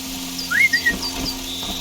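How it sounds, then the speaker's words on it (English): A short rising whistle, a quick two-note call used to lure a machine in Horizon Zero Dawn, sounds clearly over a low steady game background hum. "Give him a little whistle."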